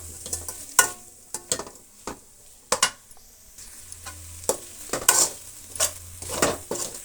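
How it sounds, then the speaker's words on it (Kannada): Four chopped tomatoes fry in a pan, a low sizzle under repeated sharp scrapes and clacks of a spoon stirring, coming in irregular bursts every half second or so. "ಟೊಮೆಟೊ ಕೂಡ 1-2 ನಿಮಿಷ ಫ್ರೈ ಆಗಲಿ."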